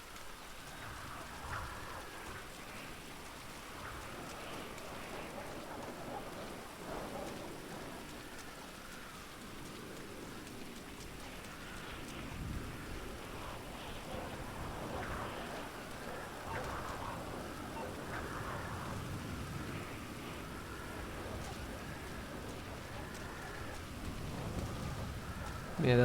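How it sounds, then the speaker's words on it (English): Rain falls over a swamp in the video game GTA V, a steady soft patter with faint rumbles beneath, fairly quiet and continuous throughout. "that it rains on the swamp."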